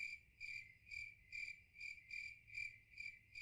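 Cricket chirping in the video game Super Auto Pets, a clean rhythmic series of about seven short, evenly spaced trills heard alone and fairly faint.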